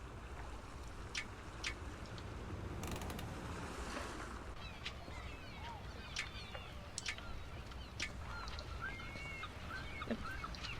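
Birdsong from the Wallace & Gromit The Last Resort video game: repeated short chirps and whistles scattered over a steady wash of ambient noise, with a brief louder rushing burst partway through.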